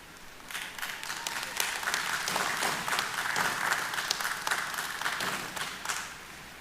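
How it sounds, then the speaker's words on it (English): Applause for honorees at a Dominica National Day ceremony in 2022: a crowd clapping steadily at moderate distance, swelling after a quiet start and staying even for several seconds with no talk over it. "I now invite you to give another round of applause to all of our Meritorious Service awardees"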